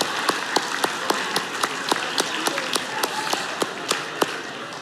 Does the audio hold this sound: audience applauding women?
yes